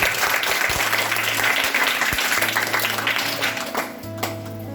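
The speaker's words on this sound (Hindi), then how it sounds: "जोरदार ताली।" Enthusiastic audience applause at a school children's cabinet election, continuous dense clapping from a crowd, loud and sustained throughout with a few sharper individual claps standing out.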